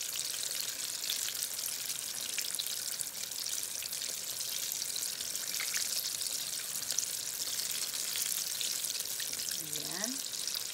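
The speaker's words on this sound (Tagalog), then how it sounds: "Iprito." Vegetable spring rolls (lumpiang gulay) fry in hot oil, giving a steady, dense sizzle with crackling and bubbling that runs without a break.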